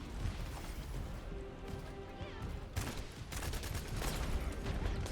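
Gunfire and explosions in the sci-fi shooter game The First Descendant, during an endgame boss fight against the Colossus Gluttony: a dense, continuous barrage of blasts and crackling fire with louder bursts toward the end, layered over game effects.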